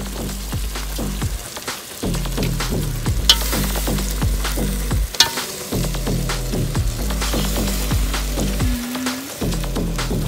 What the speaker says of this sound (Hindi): तो हम इसमें चिकन डालेंगे और अच्छे से भून लेंगे।